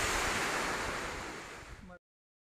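Rushing water pours at Elephant Falls as a dense, broadband roar, loud and close, holding steady for about two seconds before stopping abruptly.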